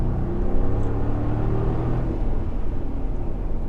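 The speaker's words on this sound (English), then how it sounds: "So, in terms of power, this car's got the sports exhaust." Mercedes G550 with a sports exhaust, its engine giving a deep, steady rumbling drone that swells slightly early on and holds constant, heard close with no talking.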